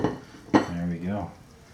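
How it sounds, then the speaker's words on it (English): Sesame buffalo wings fresh out of the oven sizzle briefly after a sharp clatter of the pan being set down, a soft crackle under a short spoken remark. "Just listen to those sizzle."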